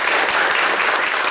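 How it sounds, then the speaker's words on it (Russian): Dense, steady audience applause filling the whole short stretch at a college awards ceremony, loud and continuous with no voices over it. "Это заслужит аплодисментов."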